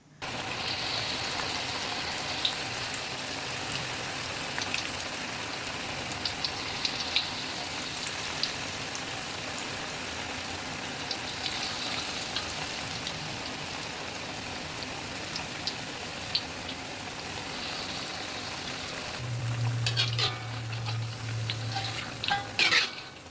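Balahu fritter batter frying in hot oil over medium heat, a steady close crackling sizzle with occasional stirring clatter, holding evenly throughout and swelling slightly louder near the end; no one speaks.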